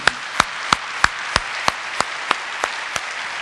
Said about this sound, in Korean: 하나님께 감사와 영광의 박수 올려드리기 바랍니다.